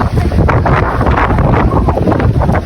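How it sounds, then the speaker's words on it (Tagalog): Strong wind buffets the microphone in a continuous loud roar aboard a boat near Iligan City, Lanao del Norte, Philippines, with no voices. "Lakas ng hangin."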